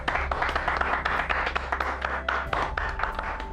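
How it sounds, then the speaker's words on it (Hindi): An audience claps at a public health event in Bihar, a steady patter of many hands that goes on without a break at moderate, slightly distant loudness over a low hum. "इस बात पे तालियां तो बज सकती है।"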